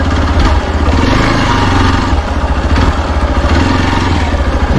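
A Hero Xpulse 200 motorcycle engine runs close and loud on an off-road practice track. It holds a steady mid-range throb with a rough, clattery exhaust note that rises and falls slightly.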